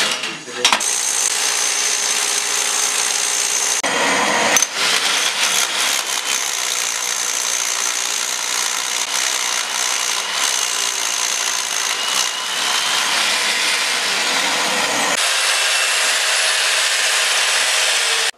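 Loud, continuous grinding of a drill boring into concrete, running steadily with brief pauses and restarts, close by.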